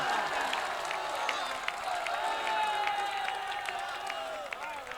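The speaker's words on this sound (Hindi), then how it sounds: "एक बार जोरदार ताली बजाइए मीसम के लिए" Applause and cheering from an audience at a shayari poetry gathering for the poet Mesam, a steady continuous wash of clapping and crowd noise.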